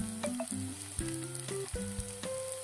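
Paneer bhurji frying in a pan is stirred with repeated scraping strokes over a constant sizzle, the tool clinking against the metal in an uneven rhythm, close and with no talk.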